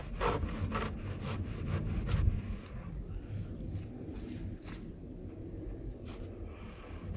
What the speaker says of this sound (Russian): Вначале пропилы, а потом уже пилишь.